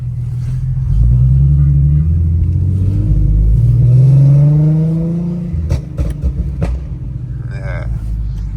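Infiniti G37 with long tube headers idling roughly from inside the car, a loud steady low rumble that rises and swells midway with uneven pulses, then settles back to a lumpy idle; no talk over it.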